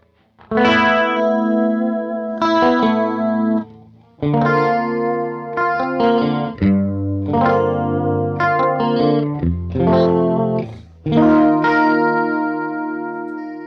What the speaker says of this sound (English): made the delay kind of sound like a chorus by making it a short delay